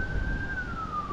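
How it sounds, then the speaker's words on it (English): A police siren wails steadily at a distance, its tone slowly sliding downward over a low rumble, heard from a fishing pier. "That's a lot of sirens."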